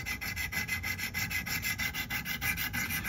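Knife blade stroked against a sharpening stone in steady, even back-and-forth passes, a close, gritty scraping with a regular rhythm of about four strokes per second, no voices.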